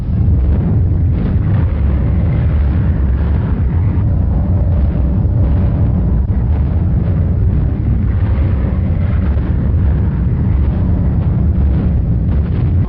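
A wartime newsreel carries a continuous heavy explosion, a loud low rumbling roar with crackling bursts on an old, band-limited recording, sustained throughout without speech.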